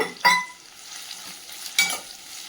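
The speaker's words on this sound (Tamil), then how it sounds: "இதை நல்லா வதக்கி விடுங்க." Two large onions, sliced thin, sauté in hot oil for chicken sukka, a faint sizzle beneath two sharp metallic clinks of a spoon striking the pan.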